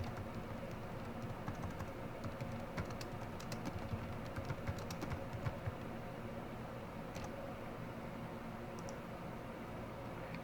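Keys clack softly on a computer keyboard during data entry in an Excel spreadsheet, an irregular patter of quiet taps over faint background hiss.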